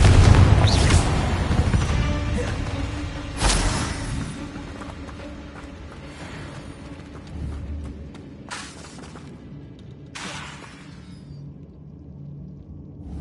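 Confringo fire spells bursting against spider sacks in Hogwarts Legacy: several loud, sharp blasts spaced seconds apart, each trailing into a low rumble over quieter game ambience.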